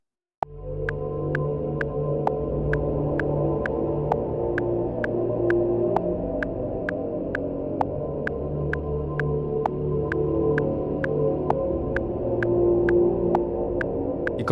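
Twin postpunk/darkwave synth pads, slightly detuned from each other, sustain a wide chord that starts abruptly and holds steady, with a regular ticking beat on top and no talking.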